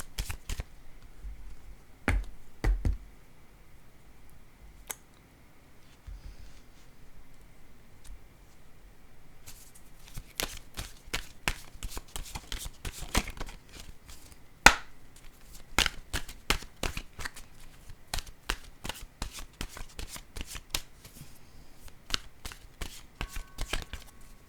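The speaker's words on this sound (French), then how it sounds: "Je vais piger une carte." An oracle card deck is shuffled and cards are drawn, giving quiet close riffling, taps and sharp flicking clicks, sparse at first and then in dense rapid runs.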